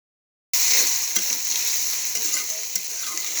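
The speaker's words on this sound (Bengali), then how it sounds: "এটাকেও এখন আমি একটু তেলে সুন্দরভাবে একটু ভেজে নেব।" Onion paste frying in oil, a strong steady sizzle that bursts in abruptly after a moment of silence and then hisses on evenly, with a few faint stirring taps.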